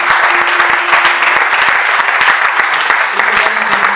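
A church congregation breaks into sustained applause, a dense, loud patter of many hands clapping continuously with no break.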